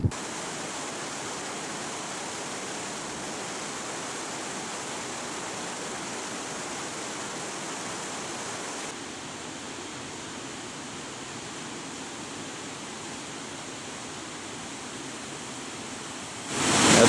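A river rushes beside a small wheat mill in Norway, a steady broadband hiss of flowing water that drops slightly in level partway through and stays continuous to the end.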